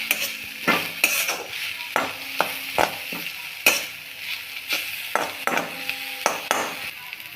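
Masala with green chillies frying and being stirred in a pan for a Maharashtrian spring onion greens dish, with a steady sizzle broken by repeated spoon scrapes and clinks against the pan, close and alone.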